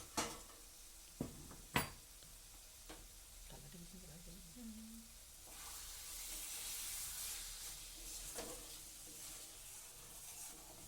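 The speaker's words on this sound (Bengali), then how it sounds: "ভালো করে এটা আলু আর মশলা একসাথে কষানো হয়ে গেছে।" Potatoes and spices frying together in a pan, a steady broadband sizzle that swells louder in the second half, with a few sharp utensil knocks early on and brief speech-like tones in between.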